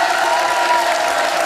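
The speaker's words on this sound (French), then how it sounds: "Je vous demande quelques applaudissements pour la candidate du plateau, Aurélie également." A game show studio audience applauds a contestant, a short, dense burst of clapping and crowd noise that fills the room.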